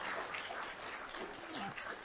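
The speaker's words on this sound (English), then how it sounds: "Shall we give Tan Sri another round of applause?" Audience applause at a Saturday morning fireside chat session honouring Tan Sri Nazir Razak, a steady dense patter of clapping throughout with faint voices mixed in.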